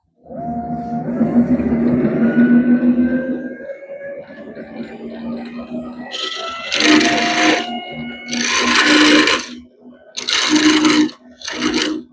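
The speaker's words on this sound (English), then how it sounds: "now I'm going to part this off. Bring this in, my parting tool." A lathe hums steadily, then a parting tool bites into spinning oak in several loud rasping bursts with short pauses between them.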